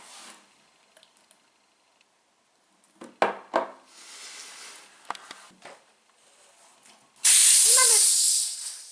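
Gas bursts from a pierced cartridge in a vintage Polish soda siphon, a loud sustained hiss lasting about two seconds near the end, after scattered clicks and handling noises.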